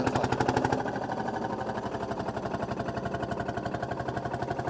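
A single-cylinder vintage tractor engine labours at a tractor pull, its loud, steady chugging beat thumping rapidly and evenly throughout at close range, with a brief rev at the start.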